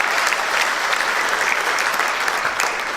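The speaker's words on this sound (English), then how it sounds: "Give a round of applause for Pops for their support." A middle school band concert audience claps steadily, a close, full and even wash of many hands with no pauses, no voices heard.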